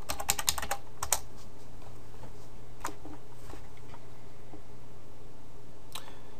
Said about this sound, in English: we just gotta type in the name of the app